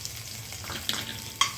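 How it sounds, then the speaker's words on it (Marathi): Crushed garlic frying in a little oil in a kadai for lasuni methi gives a soft, continuous sizzle, with two sharp metallic clinks from a spoon near the end and no talking. "कढईमध्ये थोडं तेल घातलं आहे, त्याच्यात मी लसूण टाकते"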